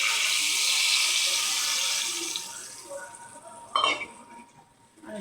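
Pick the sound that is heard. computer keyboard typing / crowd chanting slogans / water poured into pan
water poured into pan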